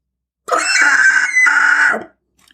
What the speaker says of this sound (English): she could be heard running about the room, accompanied by endless slew of blood-curdling screams